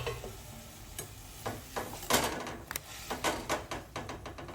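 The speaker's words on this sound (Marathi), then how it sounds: "छान परतून घ्यायचं हे तुपामध्ये गाजर मस्त." Carrots stirred and frying in ghee in a pan, with a soft steady sizzle broken by repeated scraping and clinking strokes of a spoon, close and moderately quiet.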